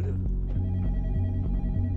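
A telephone rings inside the horror video game Night Shift at Chuck E. Cheese's 2, repeating short bell bursts in an even rhythm at moderate loudness over a low background hum.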